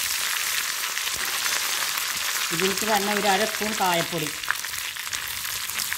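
Mustard seeds, dried chillies and curry leaves sizzle and crackle steadily in hot oil for a rasam tempering, a constant bright frying hiss while someone speaks briefly over it.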